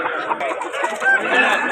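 Young fighting cocks clucking close by in a loud, continuous burst of short, throaty calls.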